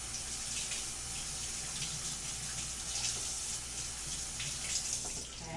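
Kitchen tap running steadily while hands are washed, a continuous close hiss of water splashing into a sink for a few seconds.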